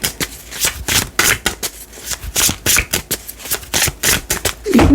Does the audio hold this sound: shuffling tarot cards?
yes